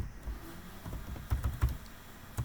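Keystrokes on a computer keyboard while writing Python code, soft and fairly close, with a few louder taps clustered near the end and no talking.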